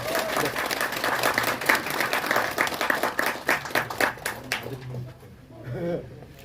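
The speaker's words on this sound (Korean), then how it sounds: "큰 박수 부탁합니다" Guests at a senior citizens' hall opening ceremony clap for an award recipient, a dense burst of applause that thins and fades after about five seconds, with voices talking over it.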